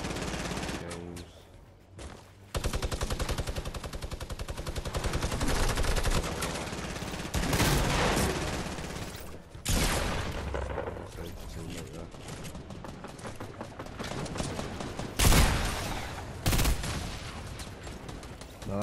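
Gunfire in the video game Fortnite, several bursts of rapid shots and single loud cracks over a noisy game mix, with a voice talking at times.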